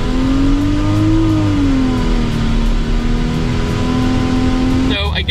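A tuned 700-horsepower Ford Explorer ST engine revs at about 20% throttle, giving a loud, close, steady hum whose pitch rises, dips and holds, then cuts off abruptly near the end.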